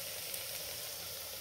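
Aromatic herbs for mola ghormeh, a northern Iranian vegetarian dish, sizzle in a cooking pot with a steady, close frying hiss and no voices over it.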